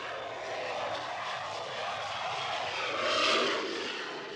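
A film's jet airliner takes off and climbs, a loud sustained engine roar and whine that swells toward the end, with no talk over it.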